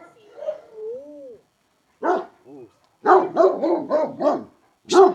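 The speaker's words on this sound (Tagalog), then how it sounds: "Ganda ng tahol, no?" A dog barks several times in a quick run, fairly close, after some scattered softer sounds and a short whine.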